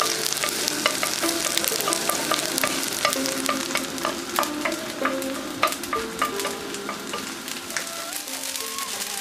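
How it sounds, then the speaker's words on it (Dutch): An egg fries with bami in a pan, a dense continuous sizzle with rapid crackling pops and spatter, close and fairly loud, no talk. "Maar je bakt het ei gewoon nu."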